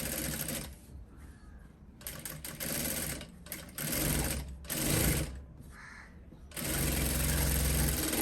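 Sewing machine stitching fabric along a neckline, running in several short bursts of rapid, even mechanical whirring separated by quiet pauses, close and clear.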